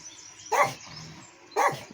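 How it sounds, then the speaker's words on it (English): A guard dog lets out two sharp, loud barks about a second apart, close by, with quiet background between them. "him barks and growls so much he needs water now."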